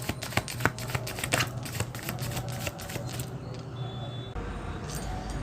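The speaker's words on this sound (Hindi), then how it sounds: "तो चलिए आपके सामने मैं यहाँ पर कार्ड मिक्स करने वाली हूँ" Tarot cards being mixed by hand, giving a run of quick, close, soft riffling clicks and flicks that thin out toward the end, with faint background noise and no talking.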